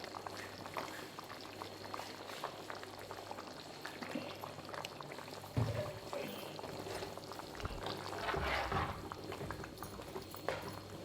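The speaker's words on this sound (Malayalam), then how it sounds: "നമ്മൾ കുറച്ച് പച്ച വെളിച്ചെണ്ണ ഒഴിക്കണം" Raw coconut oil is poured into a simmering fish curry in an earthen pot, a soft, faint trickle over gentle bubbling that goes on throughout.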